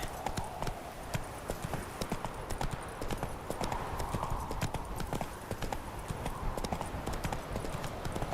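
The horse Roach trots along in The Witcher 3, hooves clip-clopping in a steady, fast rhythm at close range over a low ambient bed, with someone talking now and then.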